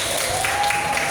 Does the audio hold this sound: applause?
yes